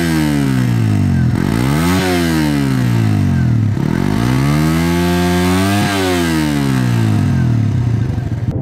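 A Suzuki GSX-R 150 motorcycle engine revs loudly and up close, rising and falling through several throttle blips with steady idle between, with no talking.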